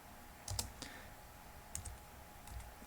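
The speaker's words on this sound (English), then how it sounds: "so I will type in make file system" Several soft clicks of computer keyboard keys being pressed in short bursts, typing a command on a Linux system, faint and close with quiet pauses between the keystroke clusters.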